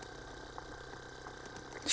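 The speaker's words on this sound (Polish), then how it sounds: "On praktycznie rzecz biorąc wibruje jak" Bosch fuel pressure regulator valve on a regeneration test bench, electrically driven at raised current and frequency, gives off a steady low mechanical buzz and vibration hum, moderately quiet and unbroken for two seconds, with no talking.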